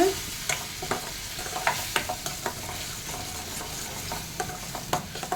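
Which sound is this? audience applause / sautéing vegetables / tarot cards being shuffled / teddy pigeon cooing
sautéing vegetables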